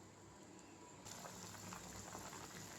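Kozhukattai rice balls simmer in plain water in a pot, giving a steady close bubbling and fizzing that swells a little louder partway through, with no talking.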